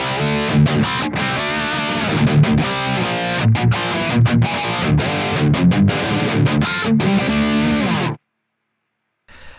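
A tight, high-gain distorted rhythm guitar through a Kemper profile of a Mesa Mark IV amp, chugging with choppy palm-muted stops for about eight seconds, loud and dense with strong mid-range, then cutting to silence.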